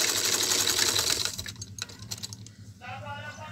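A sewing machine stitches a garment's neckline, running in a fast steady whir for over a second, then breaking into short uneven bursts. Low rumbling background noise runs throughout, and a faint voice-like tone appears near the end.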